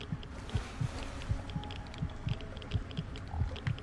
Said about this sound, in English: Sorry about the heart beating.